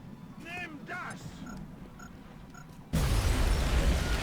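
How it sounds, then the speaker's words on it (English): A heat warhead grenade in XCOM erupts abruptly and loudly near the end, a sudden broad blast that holds for over a second, following quieter game sound effects and chirping tones. "I should be able to blow up this mechtoid of the heat warhead grenades"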